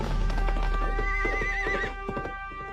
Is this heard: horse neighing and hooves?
yes